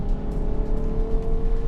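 Ferrari Purosangue with its 725-horsepower V12 engine giving a brief, loud, steady rev with a sustained tonal growl, heard close and alone for under two seconds.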